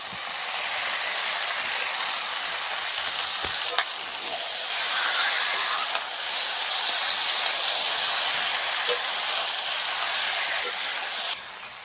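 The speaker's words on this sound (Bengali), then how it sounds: "সবজি প্রায় ভাজা হয়েছে কেটে রাখা গুলো দিয়ে দেবো" Vegetables frying in a pan for a fish curry, giving a steady broad sizzling hiss with a few sharp ticks and clicks from stirring.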